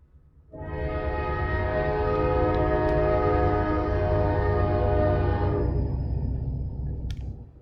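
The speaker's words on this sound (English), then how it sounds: "There's a train by my house." A train passes close by a house, its loud rumble and sustained horn swelling in and holding steady for several seconds before fading, with no talk over it.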